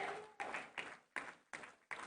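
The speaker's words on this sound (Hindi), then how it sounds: "ये तालियां आपके सम्मान के लिए हैं, आपकी मेहनत के लिए है" A crowd at a Delhi political event claps in distinct, evenly spaced rhythmic beats, heard faint and somewhat distant.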